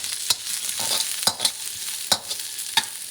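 Onions and garlic sizzle in a carbon steel wok. A steady hiss is broken by sharp, regular scraping strokes as the pieces are pushed around, heard close with no voices.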